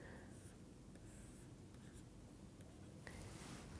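Marker or chalk scratching across a classroom board while a small sketch is drawn, steady broadband strokes over low room noise, with no talking.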